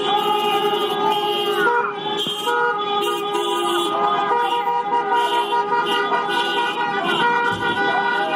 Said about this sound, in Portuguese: os apoiadores do Bolsonaro realizaram buzinaço na rodoviária do Plano Piloto